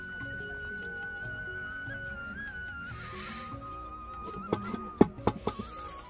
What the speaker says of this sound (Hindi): 1 कटोरी में पानी डाल देते हैं ऊपर से